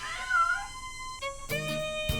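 Feral barn cats on an Oklahoma dairy farm give a short, wavering meow, followed by held, steady musical tones.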